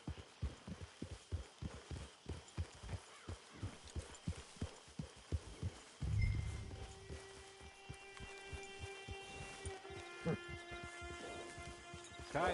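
Horse hooves clip-clop in a steady, even rhythm while riding into camp in Red Dead Redemption 2, with a low rumble and game tones and voices drifting in over the plodding beat.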